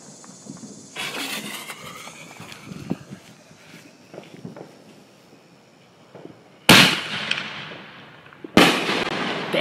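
An Excalibur firework mortar shell goes off outdoors, with footsteps and handling noises first, then two loud, sharp blasts late in the clip, each followed by a crackling, fading tail.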